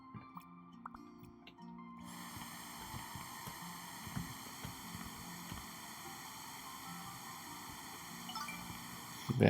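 Vacuum cleaner in the House Flipper 2 game, switching on after a quiet start into a steady whining hum with faint crackles that runs to the end.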